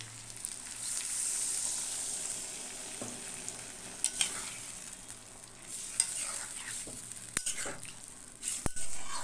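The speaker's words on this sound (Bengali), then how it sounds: "এবার এটাকে আমি সামান্য একটু কর্নফ্লাওয়ার করে নিয়েছি, নিয়ে এই জলটা এখন এখানে দিয়ে দেবো।" Cornflour water poured into a pan of sizzling chilli chicken with soy sauce: a bright, steady hiss of frying, broken by a few sharp clicks and clinks of utensils against the pan.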